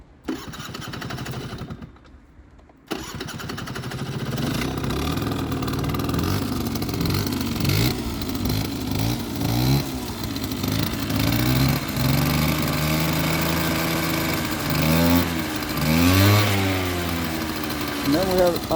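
A 2001 Hyosung Sense scooter engine that tends to stall, cutting out briefly near the start, then running steadily and revving up and down under heavy throttle, close by, with a person talking over it.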